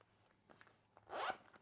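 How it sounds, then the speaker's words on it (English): A quiet, close zipper pull on a Gaston Luga Spläsh bum bag: light ticking teeth build into a short, brighter rasp near the end, all soft and alone. "Nice feeling in the zipper."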